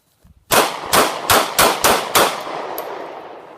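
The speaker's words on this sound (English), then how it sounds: "You just witnessed the first time I ever attempted to draw quickly from an appendix holster and fire a full magazine" Diamondback DB9 pistol fires six rapid shots in a fast, slightly uneven string, loud and close, each crack ringing into a long fading echo.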